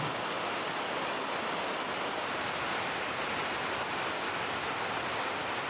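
Waterfall in remote forest near Cikaniki, a dense, steady roar of falling water heard close and alone, unbroken for the whole stretch.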